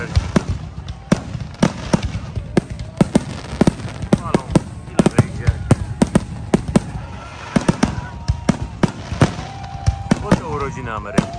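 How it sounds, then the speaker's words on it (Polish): Rapid bursts of US Independence Day fireworks crackle and bang in irregular volleys, some sharp pops close together, with a voice talking faintly underneath. "Fajerwerki."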